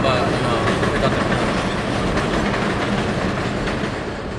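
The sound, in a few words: passing train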